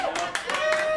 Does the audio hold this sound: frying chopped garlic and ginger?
no